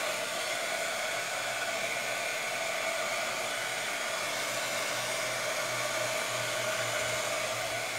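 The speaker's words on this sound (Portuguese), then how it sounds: "Eu tô secando aqui para poder passar a tinta metálica por cima." A hair dryer runs steadily and close by, drying paint on a sewing chest, producing an unbroken airy whoosh with a low motor hum throughout.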